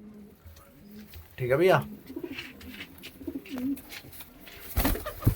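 Punjabi Malwai pigeons coo softly nearby in short bursts, with someone speaking briefly among them and a sharp rustle near the end.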